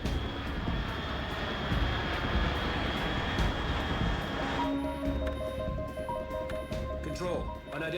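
An aircraft in Metal Gear Solid 3 roars overhead as a steady, loud engine drone that thins partway through, giving way to tonal in-game sounds while a voice speaks.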